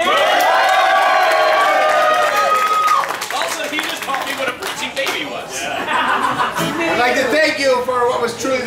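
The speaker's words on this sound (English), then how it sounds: "The definition of a smattering of applause there." A room of people cheering, whooping and clapping, busy and lively, then settling into scattered claps, chatter and chuckles.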